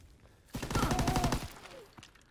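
A short, loud burst of rapid gunfire in a video game erupts, lasting about a second, then cuts off.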